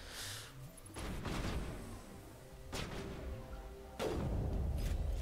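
Gunfire in the Mass Effect sci-fi shooter game, sounding as a few loud bursts and booms that break out at intervals over a steady rumbling battle background, with no voices in the foreground.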